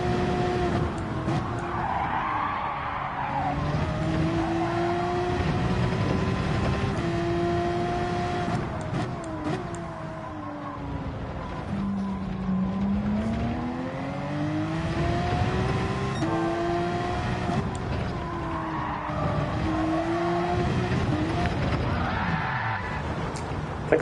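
Porsche race car in Gran Turismo 7, engine revving and shifting through gears with sustained tire squeal and skidding as the car pushes wide through corners, loud and continuous throughout.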